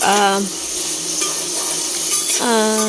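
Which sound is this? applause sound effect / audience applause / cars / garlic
garlic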